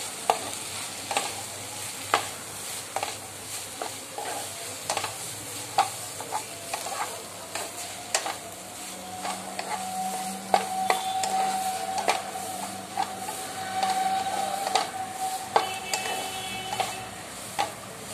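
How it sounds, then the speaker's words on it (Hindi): A spoon stirs bread pova in a frying pan with a steady rhythm of scraping clicks over a soft sizzle. "अब इसे अच्छे से मैं मिक्स कर"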